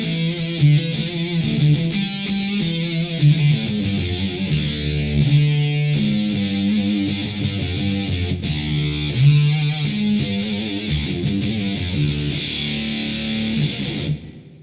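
Electric guitar solo through a Flattley Poison Ivy fuzz pedal with added reverb, thick and saturated, with busy, bending lead lines played continuously and loud.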